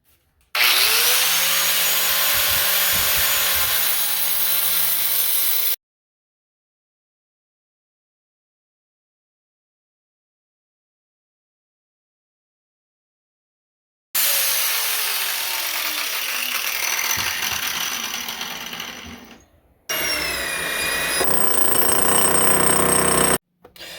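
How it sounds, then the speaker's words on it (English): A corded grinder whines loudly as it cuts into a floor, running in long bursts with a descending pitch as it spins down, separated by silence. "I'm going to take the corded grinder and then just go here, here, and then here"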